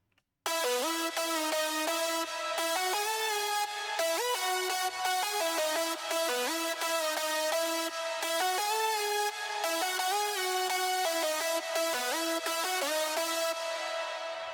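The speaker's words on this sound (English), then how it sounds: "I've got a melody here with a stack that I made using presets from my preset bank." A layered synth lead built from stacked presets plays a bright, harmonically rich melody with steady sustained notes and short gaps, loud and continuous with no voices.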